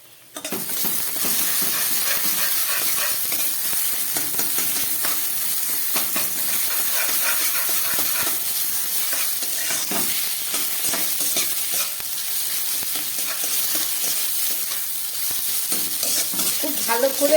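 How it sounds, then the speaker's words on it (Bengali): A spice paste of ginger, garlic, onion and green chilli frying in a pan, giving a loud, steady, continuous sizzle and hiss close by, with faint stirring scrapes underneath. "এখানে আদা আছে, সামান্য একটু রসুন আর পেঁয়াজ আর কাঁচা লঙ্কা। এটাকে একটু ভালো করে ভেজে নিচ্ছি।"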